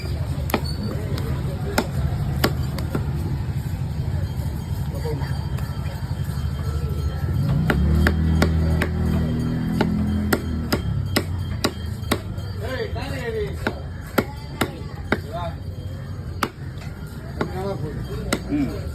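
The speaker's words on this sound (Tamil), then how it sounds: "தலையை வந்து ரெண்டாக தான் போட சொல்லியிருக்காரு." A red fish head is chopped in two at the Kasimedu fish market, with sharp, loud knife strikes landing at irregular intervals over a busy background while people talk nearby.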